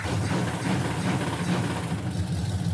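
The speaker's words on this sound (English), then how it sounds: "So the engine runs just like I remember it did" The V8 engine of a 1964 Chevrolet Bel Air runs at a steady idle, a continuous close low rumble with an even mechanical texture and no talk.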